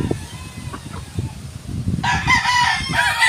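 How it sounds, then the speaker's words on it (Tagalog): A rooster crows loudly and close, its strained call dominating the second half after a stretch of low clucking and rustling from farm fowl. "Oh, Boss Michael, ito na yung manok mo."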